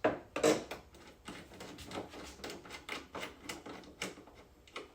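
Ratcheting and clicking of a wrench removing a bolt in the engine bay of a Lexus LS 400, a rapid series of close metallic clicks in uneven bursts, with no talking.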